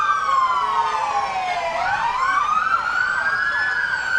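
Trenton Fire Department fire engine 502 sounding its siren while rolling in a parade, a loud continuous wail sweeping down and back up in pitch with steady road noise beneath.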